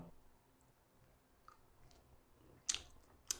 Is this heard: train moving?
no